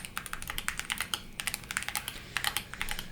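Rapid, steady keystrokes on a Bluetooth keyboard fitted with red Fuji keycaps, crisp and close, with a brief pause midway before the clicking resumes.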